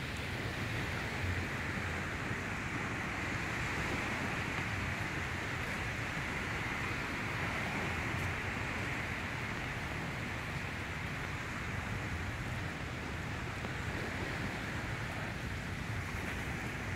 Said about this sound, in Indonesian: Terdengar desiran ombak